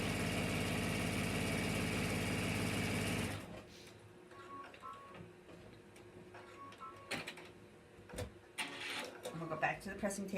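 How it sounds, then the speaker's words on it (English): A sewing machine stitches a French seam with a 3/8 inch seam allowance, a steady loud mechanical whir for about three seconds, then stopping, followed by quiet handling noises and clicks. "So now we're going to sew with a 3/8 inch seam allowance here."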